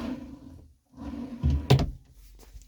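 Drawers in the wardrobe of a 2021 Forest River Wolf Pack RV being opened and closed, a few close wooden slides and bumps, with one sharper knock near the end, fairly loud against a quiet room.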